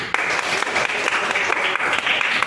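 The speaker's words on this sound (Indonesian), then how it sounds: "berikan tepuk tangan dulu kepada Luna" Applause from a Grade 4 classroom of children for a student named Luna, steady dense clapping filling the room throughout, close and fairly loud, with no talk over it.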